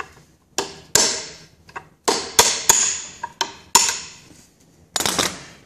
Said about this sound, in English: Just using a punch and a hammer.